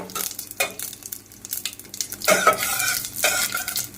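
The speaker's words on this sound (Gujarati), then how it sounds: "હવે સરખી રીતે હલાવી દઈશું" A spoonful of cumin seeds sizzles in hot oil in a pan for jeera rice while a spoon stirs it, with bursts of scraping strokes over a constant close crackle and no voices.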